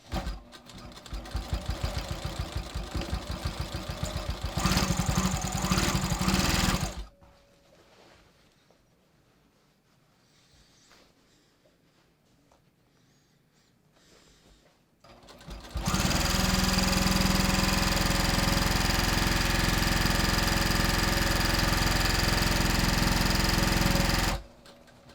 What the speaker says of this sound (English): now I'm going to get my sewing machine and I'm going to sew this to secure it